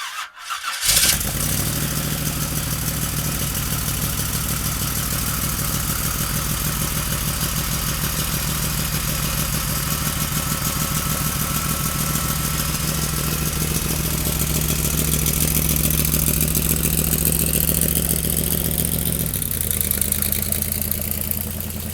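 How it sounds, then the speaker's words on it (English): A 1932 Ford street rod with a small block engine cranks and fires, then settles into a loud, steady, close-up idle with a slight shift near the end, no talking. "let's listen to this small block run"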